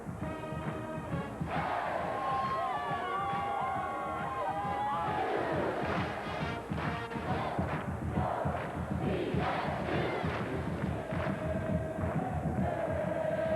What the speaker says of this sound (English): a sellout crowd here at Beaver Stadium